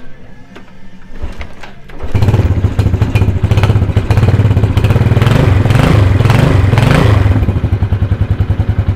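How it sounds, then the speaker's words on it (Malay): A motorcycle engine is started after the electric starter fails: quieter clattering for about two seconds, then the engine catches and runs loudly with a steady, rough, pulsing beat to the end. "jadinya kita try start motor ni"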